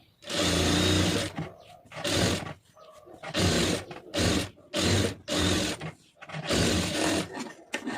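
An electric sewing machine runs small stitches along a lined blouse, whirring in about six distinct bursts separated by short pauses, close and steady with no voices.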